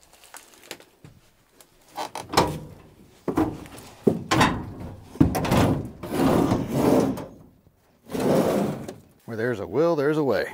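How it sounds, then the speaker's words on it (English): Forcing open a stuck door on an old vintage car: irregular wooden-sounding creaks, thumps and scraping bursts over about ten seconds, fairly close, ending with a wavering squeal. "I know this door works. I've opened it before."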